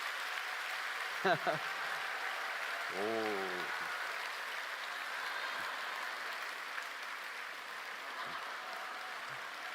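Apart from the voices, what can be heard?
congregation applauding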